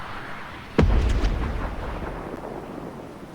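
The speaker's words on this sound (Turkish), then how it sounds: "Bir de arkamdan roket attı." A rocket explodes in Fortnite Battle Royale with one sharp, booming blast, followed by a brief crackle and a rumble that fades over the next few seconds.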